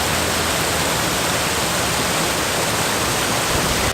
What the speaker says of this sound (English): small little whitewater stretches of the stream